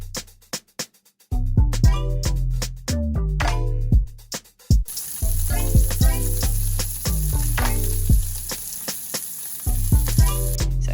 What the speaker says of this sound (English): he's about to cook some steak for me